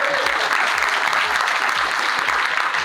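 A convention audience at Sorcery Con claps in a dense, steady round of applause, close and loud throughout with no break.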